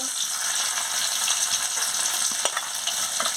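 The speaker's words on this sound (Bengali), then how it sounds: "গরম হয়ে গেছে, আমি পনিরটাকে ভালো করে ভেজে নিচ্ছি।" Pieces of paneer fry in hot oil with salt in a pan, giving a continuous, close hiss and crackle. Faint scrapes of stirring come through, and no one speaks.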